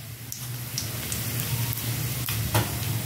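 Whole spices (cinnamon, cloves, nutmeg, mace, black cumin, pepper and two bay leaves) frying in hot oil for chicken curry, a close, steady sizzle with light crackling pops, no speech.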